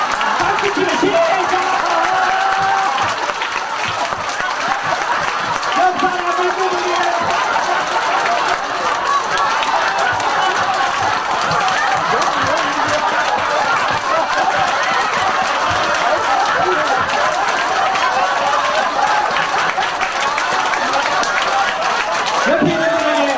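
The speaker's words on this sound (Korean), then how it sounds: "박수 치면 시작." An audience at a cancer seminar claps hard and continuously, mixed with crowd noise and scattered voices. The applause forms a dense wash that stays loud and steady for the whole stretch.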